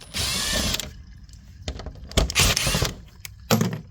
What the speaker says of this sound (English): So if you still have plates, you can use a 10 millimeter to remove them.